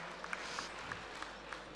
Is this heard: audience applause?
yes